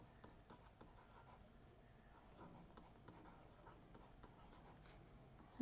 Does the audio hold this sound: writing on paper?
yes